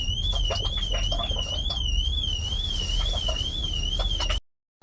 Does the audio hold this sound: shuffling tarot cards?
no